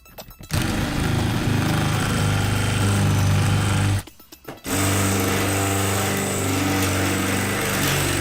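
A power drill bores into the molybdenum core of an Ultion lock with a loud, continuous high-pitched whine, briefly stopping partway before resuming just as loud.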